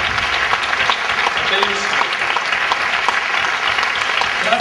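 Audience applause fills a cabaret award presentation, steady loud clapping throughout with a brief spoken word over it.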